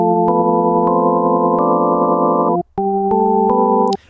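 Synthesizer notes from an FM8 patch with its panning modulation out of sync, heard as a sustained bright chord that holds, cuts off briefly, then returns, loud and clean with no talk.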